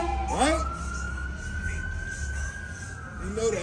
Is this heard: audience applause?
no